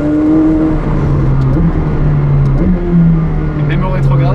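A McLaren 765LT engine revs and downshifts with a steady low drone and stepped pitch changes, heard from inside the car. Someone talks over it throughout.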